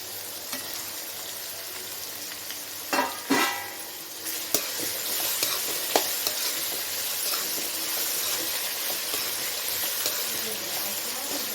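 Tomatoes and vegetables sautéing in a pan for a ghee-scented samba rava kichadi, with a steady sizzle broken by several loud spatula scrapes and knocks against the pan around the middle, heard up close.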